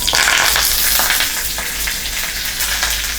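Mustard seeds, curry leaves and one dried red chilli splutter and sizzle steadily in hot oil, a dense crackling fry with small pops throughout and no voices.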